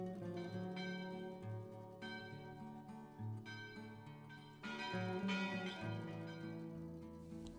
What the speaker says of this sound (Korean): 종이 울립니다.